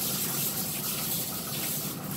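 Steady rush of running water splashing as a brush is rinsed, a continuous broadband hiss with no voices, close by.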